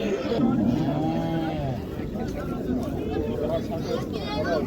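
Cattle low in long, drawn-out moos at a busy livestock market in Qarshi, one loud close bellow followed by fainter calls, with people talking and bargaining around them.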